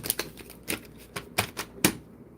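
Tarot cards being shuffled by hand: a run of sharp, crisp clicks and snaps at an uneven rhythm, close and fairly quiet, with no voices.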